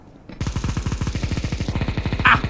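Rapid automatic gunfire in Counter-Strike 2, a fast even burst of about twenty close shots following a brief quiet start, with a sharp extra click near the end.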